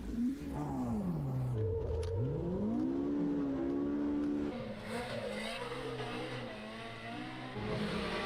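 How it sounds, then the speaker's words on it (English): A Polaris RZR side-by-side motor revving up and down, a rising and falling engine whine that climbs, dips, then swells again, loud and nearby with no talk. "How about the sound of that motor?"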